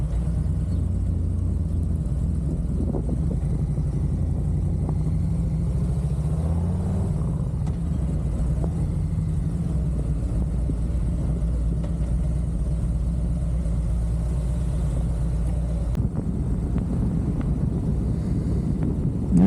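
A car cruises steadily along a highway heading east out of Kaufman, Texas, with a constant low engine and road rumble and heavy wind buffeting at the microphone, rising briefly near the end.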